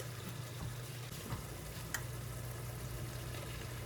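Pav bhaji chutney bubbles and sizzles steadily in a pan after hot water is added, a quiet, continuous simmering hiss with a couple of faint stirring taps.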